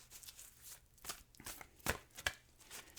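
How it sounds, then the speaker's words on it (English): Soft, quick riffling and slapping of oracle cards being shuffled, several brief bursts in an otherwise quiet space. "I'm going to shuffle and deal you an Angel Oracle card"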